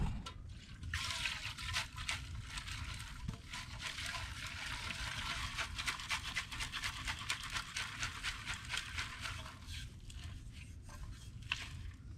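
Liquid trickles and splashes steadily as sediment is flushed out of an 87-year-old Johnson Seahorse outboard motor, a close, continuous gurgling and dribbling with irregular drips over about twelve seconds, with no talking.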